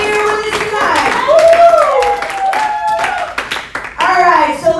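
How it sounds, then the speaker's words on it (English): Audience applause at a youth fundraiser drawing, steady clapping throughout with children's voices calling out over it. "let's give it up one more time, a big applause"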